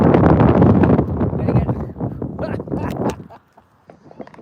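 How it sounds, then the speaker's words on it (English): Strong gusts buffet the microphone on a dog walk on a very windy day, a loud rumbling roar with uneven surges that dies away near the end, while a person talks over it. "The wind's picking up."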